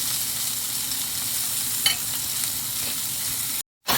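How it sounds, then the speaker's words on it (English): Minced turkey and tomato with chili sizzle in a pan on medium-high heat while a spoon stirs, a steady quiet frying hiss with a brief scrape partway through, alone without talk. "mix the chili"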